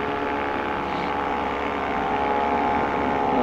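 A freshly tuned two-stroke paramotor engine drones steadily in flight, a loud continuous buzz with propeller hum that holds even and slightly swells toward the end, no talking.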